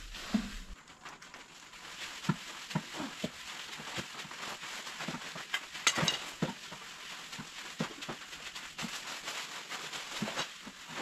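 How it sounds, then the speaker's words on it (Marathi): Dried chilies roasting in a pan for Goan garam masala in a large 40 kg batch, with soft sizzling and irregular stirring scrapes and taps, moderately close and steady. "हांगसर न्हय मम्मी भाजता ते म्हटले मिरसांगो"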